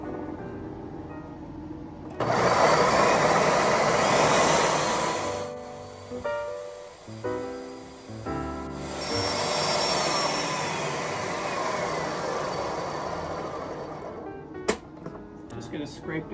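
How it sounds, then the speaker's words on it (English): A blender whirs loudly as it purées chickpeas with seasoning, running in bursts that stop and restart with uneven, chunky churning between runs and a brief clatter near the end. "Go ahead and blend these up."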